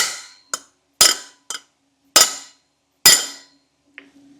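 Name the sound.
tapping cap onto brake part to seat it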